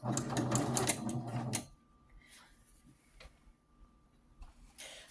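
A sewing machine fitted with a jersey needle hemming jersey pants, running in a fast, steady rattle for about a second and a half before stopping, followed by quieter handling clicks.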